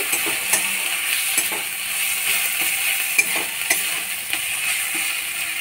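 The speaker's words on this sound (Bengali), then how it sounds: "মশলাটা ভাজা হয়ে গেছে।" Spice masala for pea chops fries in a pan with a steady sizzle, while a spoon scrapes and stirs in regular strokes, close and loud with no talk.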